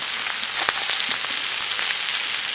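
Potatoes fry crisp in a cast iron pan on a firebox stove, giving a close, steady hiss with scattered pops and crackles throughout.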